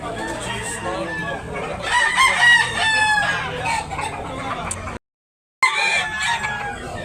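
A bullstag rooster crows at a busy chicken market in Tabunok, Talisay, Cebu, with other fowl clucking nearby. The crowing is loud and close, with a brief dropout partway through and the market racket continuing around it.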